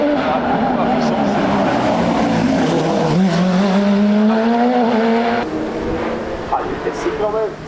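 A Porsche 997 GT3 Cup race car roars loudly past at a hill climb, its pitch rising and sweeping as it goes by, with a continuous high-revving drone throughout.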